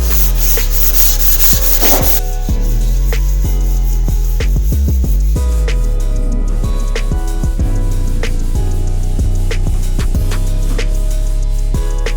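Loud, continuous abrasive rubbing of sandpaper on wood edges, with rhythmic back-and-forth strokes close up and no talking.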